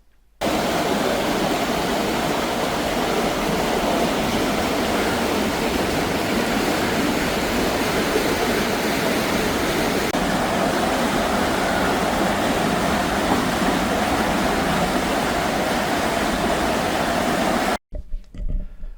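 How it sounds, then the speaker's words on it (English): Water rushing through the opened floodgates of a canal dry dock in Manchester, a loud steady broadband roar that holds constant for about eighteen seconds, then stops abruptly. "Time to open the floodgates and let the water back in."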